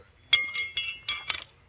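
Thrown horseshoes clink sharply against a metal stake in a men's horseshoe league game, four or five bright metallic rings in quick succession, fairly faint against a quiet outdoor background.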